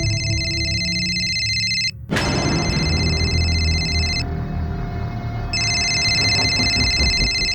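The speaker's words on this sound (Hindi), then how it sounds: "फोन तो मेरा बजा" A steady electronic phone ringtone plays loudly, with a sharp clatter partway through and a brief pause before the tone resumes.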